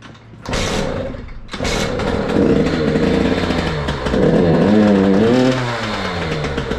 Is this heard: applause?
no